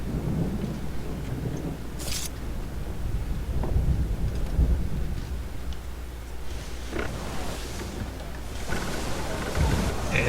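A thunderstorm at sea in Assassin's Creed III: steady heavy rain and wind noise with deep rolling thunder rumbles and sharp cracks scattered throughout, loud and continuous with no talking.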